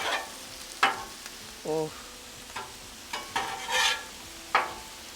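Chicken and shrimp hibachi cooks in a pan at home with a soft background sizzle and intermittent louder spatters and scrapes, and a voice gives a brief exclamation.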